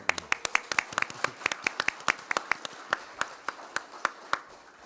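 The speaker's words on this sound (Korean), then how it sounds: "박수 한번 크게 해주시면 좋을 것 같습니다" Scattered applause from a small group, sharp individual claps in an uneven rhythm, fairly quiet and somewhat distant.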